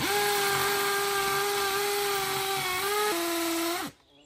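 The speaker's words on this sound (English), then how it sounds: "that's the drill bit that's gone into cement and then it's granite rock underneath" A power drill with a 10mm bit whines steadily as it bores through cement into granite rock at a Portuguese stone house, pitch dipping once under load before the motor cuts off.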